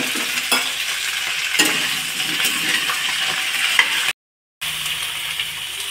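Potato, cauliflower and eggplant pieces frying in oil in a pan, a steady close sizzle with sharp stirring clinks from a utensil, briefly cut out near the end before the sizzle resumes.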